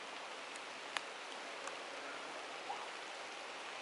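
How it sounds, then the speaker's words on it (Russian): Steady rain falls on the trees of a forest, a soft, even hiss with no breaks and an occasional faint drip standing out, fairly quiet and with no voices. "Шум дождя."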